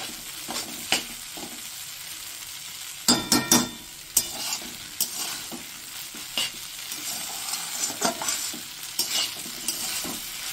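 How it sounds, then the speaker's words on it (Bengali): Spicy chow mein noodles stir-fried in a pan give a steady hiss of sizzling, broken by repeated sharp scrapes and clacks of the spatula tossing them, close and moderately loud with no talking. "দেখুন এই চাউমিন এখন ভাজার দরকার, শুধু একটু ভাজতে হবে"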